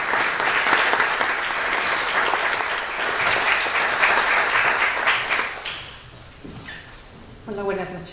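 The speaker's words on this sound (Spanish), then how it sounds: "Les pido por favor un aplauso para recibir a Elsa." A book-launch audience gives a loud, dense round of applause to welcome a speaker, sustained for several seconds before thinning out, and then a voice begins speaking at the close.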